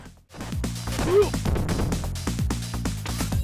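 Short vocal grunts and impact hits from the Sega CD version of Streets of Rage burst over a pulsing synth music track, with one rising cry near the start.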